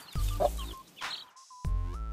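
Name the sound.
chicken clucking sound effect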